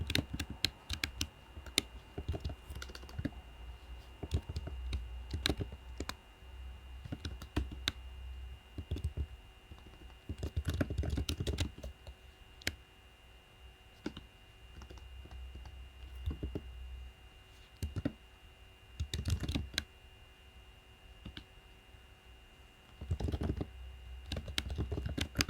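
Someone types on a computer keyboard in slow, irregular bursts of close, crisp key clicks, with pauses between runs and a faint steady hum underneath.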